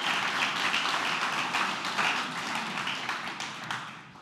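Audience applause fills a conference hall at Bubblecon 2024, a dense steady wash of clapping that carries through and fades slightly at the end.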